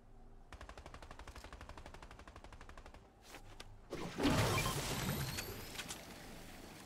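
A rapid, even rattle of automatic gunfire in a Fortnite squads match, sustained for a few seconds, then a louder, denser burst of shots and impacts that tails off.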